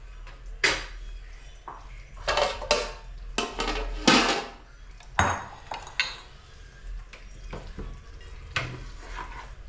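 Goat intestine and lung curry topped with coriander is spooned from a pan into a bowl, giving scattered metallic clinks and scrapes of a ladle against cookware, with irregular pauses and no talking.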